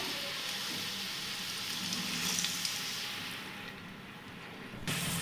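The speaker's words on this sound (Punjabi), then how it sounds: "ਇਸੇ ਤਰੀਕੇ ਦੇ ਨਾਲ ਮੈਂ ਸਾਰੇ ਭੱਲਿਆਂ ਨੂੰ ਫਰਾਈ ਕਰ ਲਵਾਂਗੀ" Bhalle, lentil fritters, fry in hot oil with a steady, soft sizzling hiss that continues evenly throughout, ending in a brief clatter near the close.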